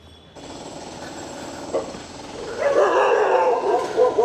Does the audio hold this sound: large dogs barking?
yes